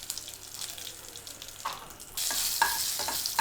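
Dried red chillies and other tempering crackling in hot oil for Kerala sambar, a soft sizzle with scattered pops that swells into a louder burst of frying near the end.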